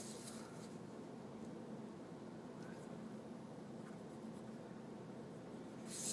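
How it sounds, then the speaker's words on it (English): A pencil makes small marks on a long sheet of paper, a faint close scratching heard alone against a quiet room hiss. "Every 2 inches, make"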